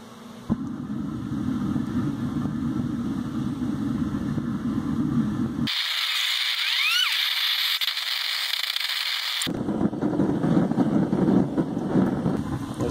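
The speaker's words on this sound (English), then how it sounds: "Just got to burn for a couple minutes to heat up the furnace, otherwise the oil won't burn." A gas-fired foundry furnace burner warms up with a steady, loud broadband roar that holds throughout, its tone briefly thinning in the middle before the full rumble returns.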